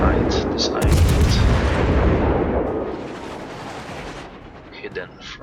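Heavy naval gunfire from a cruiser in World of Warships, a loud booming salvo with a sharp blast followed by a long rumbling roll that fades, with a few smaller thuds afterward.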